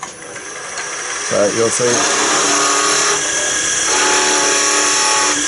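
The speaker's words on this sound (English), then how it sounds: "now I'm going to undercut it with the long point of the skew" Long point of a skew chisel undercutting a spinning wooden workpiece on a lathe, a steady close scraping whine with a brief stuttering bite partway through, heard beneath someone talking.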